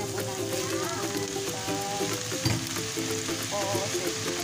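Yakisoba noodles sizzle loudly in a hot pan, a constant close frying hiss with stirring scrapes over a low background hum.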